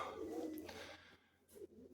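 A soft, low pigeon coo sounds faintly nearby, with a couple of brief higher chirps and quiet background hiss.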